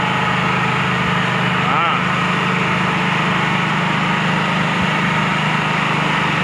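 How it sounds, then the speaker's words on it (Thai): Diesel engine of express train No. 7 running at idle during a stop, a loud, steady low rumble with a constant mechanical drone and one brief knock partway through. "สตาร์ทเครื่องนะครับให้เครื่องมันหมุนเข้าไป"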